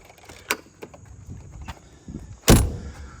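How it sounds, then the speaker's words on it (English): An Airstream travel trailer door being shut: small clicks and rattles, then one loud, close slam followed by a brief settling sound. "Let me close the door."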